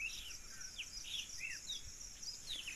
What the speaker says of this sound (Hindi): चिड़िया के आवाज़, बर्ड्स